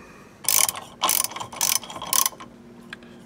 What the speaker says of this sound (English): I'm looking at a nut in there and I'm going to take it off